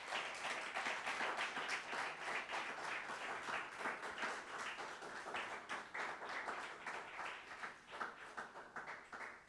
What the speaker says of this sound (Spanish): den una ofrenda de aplauso al Señor